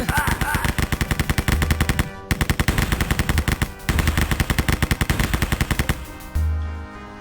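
Sustained automatic machine gun fire in a Wolfenstein mod (Wolfrot) first-person shooter, rapid loud bursts with brief pauses between them, close and dominant.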